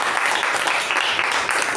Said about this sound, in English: I hope now we can have a big final round of applause for all the TAPG